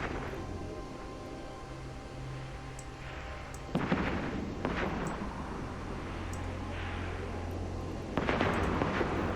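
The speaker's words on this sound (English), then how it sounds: "Those explosion effects were kind of over the top." Spaceship explosions in the EVE Online video game: deep rumbling blasts hit at intervals over a constant low hum, with two sharper booming bursts standing out.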